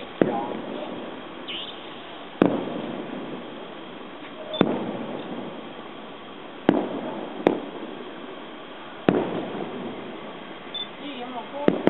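Fireworks go off at a temple festival in Jiadong, Pingtung: sharp single bangs every couple of seconds, fairly distant, over a constant hiss of crowd noise.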